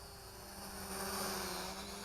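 A 4DRC F3 GPS camera drone flies in the air, its steady propeller whine and buzz holding at a constant level, heard alone with no talking.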